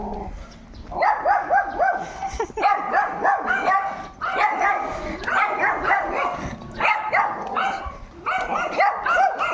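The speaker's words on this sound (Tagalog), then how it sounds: "Wala, may aso, may aso." A friendly neighborhood dog in Lagro, Quezon City barks in rapid, close, repeated bursts. The barking runs almost continuously through the whole stretch, with brief yips between bursts.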